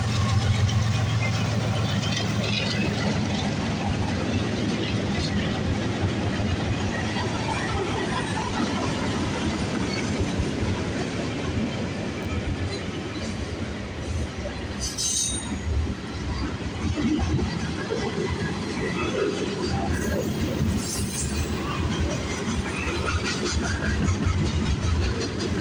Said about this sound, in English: we got a CN train coming down the line